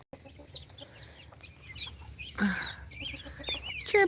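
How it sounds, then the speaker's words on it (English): Small, high peeping chirps from chicks in a backyard chicken flock come in quick repeated bursts near the microphone, with low background noise and a few louder clucks toward the end. "Oh, my babies are chirping."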